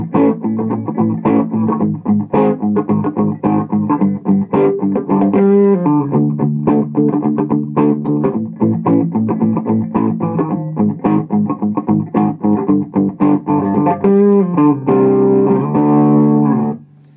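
A pink Stratocaster electric guitar on its middle pickup position plays through distortion in a stoner rock style, loud continuous riffing with chugging rhythmic chords and short melodic runs, alone without talk.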